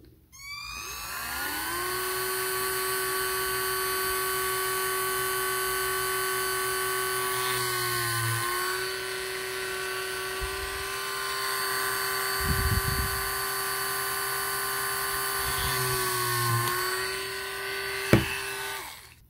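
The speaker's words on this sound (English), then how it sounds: "that's the three holes drilled on each side, so I've got one there, one here, and one here" A small drill whines steadily at a high pitch as it bores holes into the hull of a miniature model ship, sustained and close, with a few brief knocks and shifts in load.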